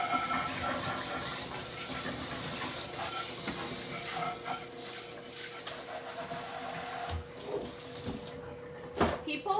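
Tap water runs into a bowl being rinsed in a kitchen sink, a steady close splashing hiss that shifts and breaks up near the end with a few clunks.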